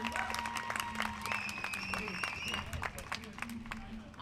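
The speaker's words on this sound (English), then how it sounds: "Another round of applause for Derek and Chad." A crowd at an overdose awareness event claps for Derek and Chad, a sustained spread of applause under a person talking throughout.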